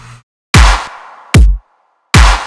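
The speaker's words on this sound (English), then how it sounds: "First, kick and clap combo" Three heavy kick-and-clap hits for a dubstep riddim beat, each a loud booming thump with a sharp clap, pumping and cut short by sidechain, spaced evenly with silence between.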